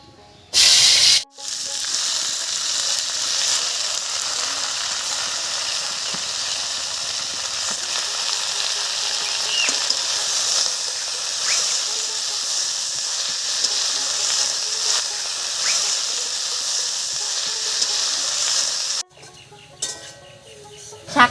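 Fresh spinach leaves tipped into hot mustard oil with spices and ginger set off a loud, continuous hiss. Steam-like sizzling holds for most of the clip before cutting out abruptly, with a few short bursts at each end.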